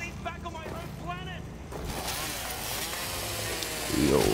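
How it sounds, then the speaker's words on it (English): A chainsaw weapon in a video game revs with a continuous buzzing drone that starts after a short stretch of talk and stays steady beneath a voice, growing slightly louder at the end. "Is this really full chainsaw mode?"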